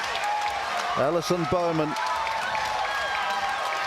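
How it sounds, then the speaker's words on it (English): A crowd at a Pacific Games athletics track, during the women's 1500 m finish, keeps up a steady roar of cheering and applause, while a commentator speaks over it and a brief announcement tone sounds. "a big roar from this appreciative crowd here."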